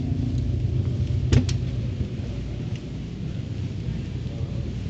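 Rain pours steadily through a storm while a short, sharp crack of thunder breaks through near the middle, loud and close, with a continuous low rumble underneath.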